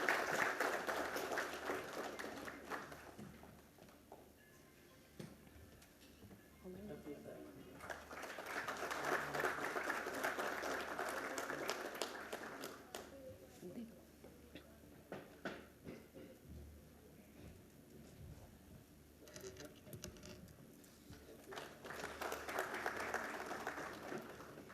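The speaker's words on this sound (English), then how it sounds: "Can we have a big round of applause also?" An audience at a formal conference on Indian Navy indigenisation claps in a moderately faint, sustained round of applause that swells in three waves, with quieter stretches between them.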